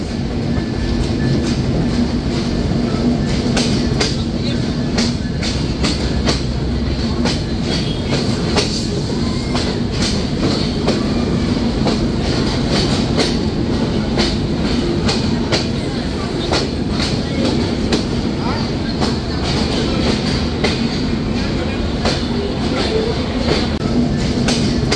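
Benapole Express train rolling into Jessore Junction railway station, with a steady loud rumble of wheels and carriages and repeated clickety-clack over the rail joints, continuous throughout.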